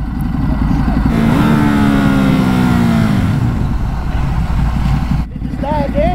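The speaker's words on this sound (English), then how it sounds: "the bike died again" A Ducati Hypermotard 950 motorcycle idles roughly, its engine note sagging and fading as it stalls, then near-silence before a voice speaks; a person talks over much of it.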